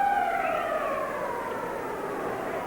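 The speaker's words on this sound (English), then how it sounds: "There's the siren to end the second period." A rising, sustained wail from a hockey arena siren ending the second period of a 1981 Nordiques versus Flyers playoff game, loud and steady over crowd noise.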